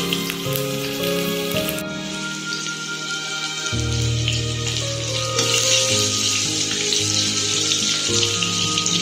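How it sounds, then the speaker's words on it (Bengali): Soya chunks fry in hot oil in a pan, a continuous crackling sizzle with occasional scraping and stirring sounds, close and steady with no voices. "এভাবে নাড়াচাড়া করে এগুলো ভেজে নিতে হবে।"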